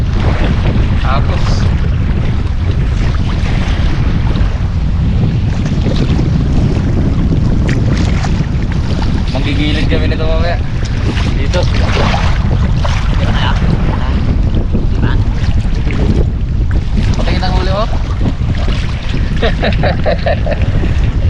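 Strong amihan monsoon wind blowing at a seashore, a loud, continuous roar buffeting the microphone with surf beneath, while people talk intermittently over it.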